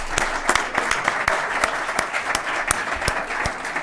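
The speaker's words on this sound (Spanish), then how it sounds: "Un aplauso, por favor." Applause at a Spanish business conference on press and digitalization rolls on steadily, with several crisp individual claps close to the listener over the broader crowd.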